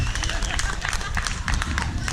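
A crowd at the podium ceremony of an elite men's gravel and tar bike race claps for the third-place rider, a steady patter of many hands with a voice heard over the applause.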